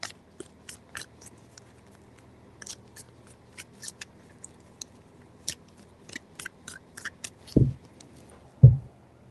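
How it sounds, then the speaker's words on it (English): Tarot cards being shuffled by hand in a quiet room, a series of soft papery riffles and taps spread evenly through the clip, ending with two heavier thumps as the deck is squared or set down. "Three shuffles."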